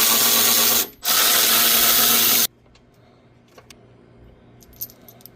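A power driver fitted with a T30 Torx bit spins screws out on a 2019-2025 Audi A6 C8, two loud close whirring bursts, followed by quiet small metallic clicks and handling noises.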